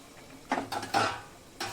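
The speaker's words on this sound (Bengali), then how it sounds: "এবার ভালো করে নাড়িয়ে চাড়িয়ে ঢেকে দিতে হবে" Potato and papaya curry being stirred in a pot and covered with a lid, a few short scraping and clinking knocks of a spoon against metal over a faint simmer.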